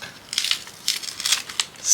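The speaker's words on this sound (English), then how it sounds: "sticky paper. I'm going to just tear that off." Sticky sticker paper being torn and peeled by hand, a run of close, crisp ripping and crinkling bursts with short pauses, no talk.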